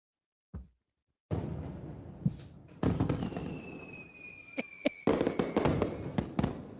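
Fireworks in an Epcot stream intro, a sharp launch pop followed by booming bursts and crackling shells that pile up into a dense, loud barrage with whistling streaks overhead.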